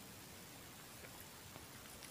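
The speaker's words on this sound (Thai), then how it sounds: "ฝนตกแล้วจ้าทุกคน" Steady rain falling in Bangkok, a constant soft hiss with faint scattered drops, heard without any voices.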